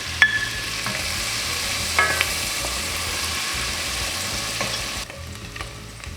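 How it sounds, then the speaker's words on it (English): Onions sautéing in melted butter for French onion soup, a steady close sizzle with faint scraping stirs and a few light clinks, easing quieter near the end; no one speaks. "We're gonna saute up these onions."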